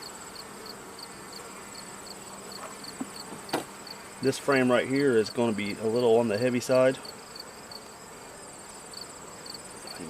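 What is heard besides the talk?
honey bees buzzing in swarm hive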